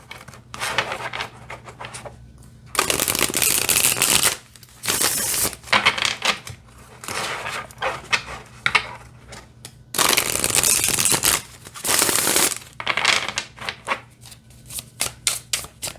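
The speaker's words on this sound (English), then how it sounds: "They glide really nice when you shuffle." A Chrysalis Tarot deck is shuffled over and over, giving crisp bursts of sliding, riffling cards broken by short pauses and lighter taps, close and clear.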